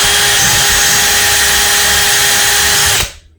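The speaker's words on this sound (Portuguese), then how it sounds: "vou para fazer o furo da segunda madeira" A power drill bores a dowel hole through a second piece of wood held in a drilling jig, a loud steady whine running without pause for about three seconds before cutting off abruptly and dying away.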